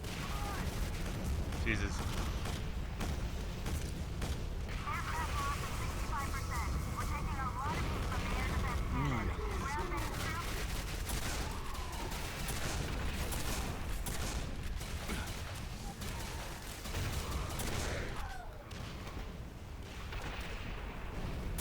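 Sustained gunfire and blasts from a squad firing in a combat video game, a dense crackling barrage with heavy booms rolling on for about twenty seconds, with voices talking over the din and a brief exclamation.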